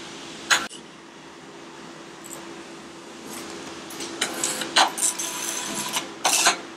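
An XP365B barcode label printer runs off a label, a low mechanical whir with a steady hum and a few sharp clicks and short feed bursts near the end, fairly quiet and without talk.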